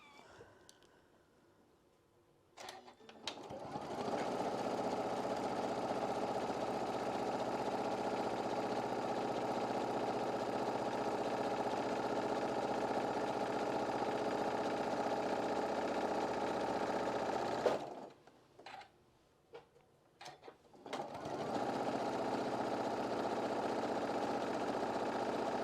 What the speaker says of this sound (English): I'm going to do a top stitch down both sides.